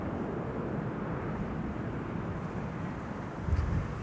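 A Turkish Airlines Airbus A350 departs, heard as a steady, distant jet roar that holds at an even level, with some wind buffeting the microphone.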